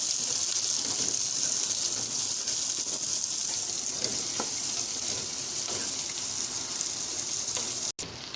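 Carrots, capsicum and onion frying in a pan, giving a continuous, even sizzle that stays fairly loud for the whole stretch with no talk, then cuts out abruptly near the end.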